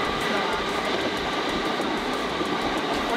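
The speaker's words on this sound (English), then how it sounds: "Oh, there's a train." A train rumbles past close by with a steady, broad roar and faint clickety-clack rhythm, continuous and fairly loud throughout, with no clear talking over it.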